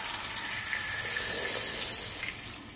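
Water pours in a continuous splashing stream into a cooking pot of noodles, a steady hissy flow that tapers off at the end with a few small splashes.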